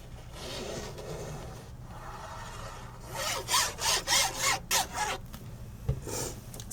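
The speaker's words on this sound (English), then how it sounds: "that makes a funky noise when I add my glue" Glue squeezed out of a bottle onto paper while a flip-lid gift box is assembled, giving a run of close, wet rasping squirts and sputters in quick bursts over quiet room noise.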